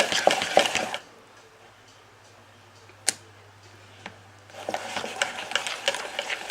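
Cream is worked into whipped butter in a bowl for a quick brioche, with bursts of mixing and scraping at the start and end, a quiet pause between, and a single sharp click in the middle.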